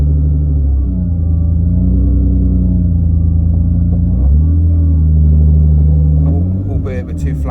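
A BMW E36 drift car with two flat rear tyres runs close by, a deep steady engine rumble that shifts pitch briefly as it pulls away slowly and then eases off near the end.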